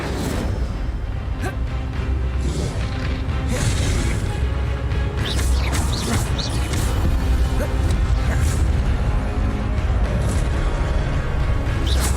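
An Incendio fire spell whooshes and bursts during spell combat in Hogwarts Legacy, mixed with loud booms, crashes and swishing magical effects that stay dense throughout.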